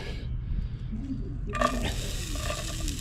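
Onion drops into a hot Dutch oven at an outdoor cooking setup, setting off a sudden bright hiss that keeps sizzling steadily after a quieter low rumble.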